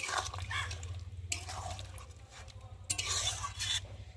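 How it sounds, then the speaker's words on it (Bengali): A spoon stirs thin egg curry in a pan, giving soft, close scraping and liquid sloshing in a few uneven strokes, quiet throughout. "একটু ভালো করে নেড়ে নেব।"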